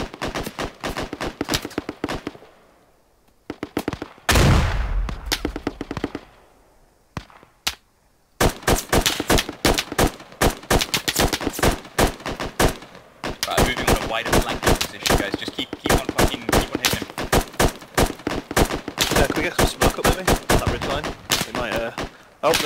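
In the military shooter Squad, dense gunfire rattles in rapid automatic bursts mixed with single shots, near and loud. A brief lull follows a heavy blast, then sustained firing resumes almost without pause.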